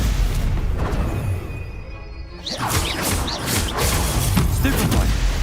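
A Stupefy spell strikes in Hogwarts Legacy, a sharp magical burst with crackling high sparkle that hits suddenly midway, set against a dense game soundscape of combat noise.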